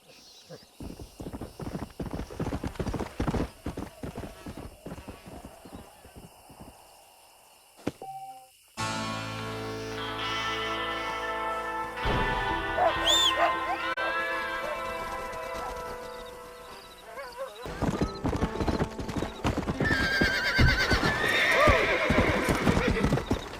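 Stallion in the Western game Red Dead Redemption, with hooves clip-clopping in steady rhythm and a loud neigh and whinny rising over them, set among game music and spoken dialogue.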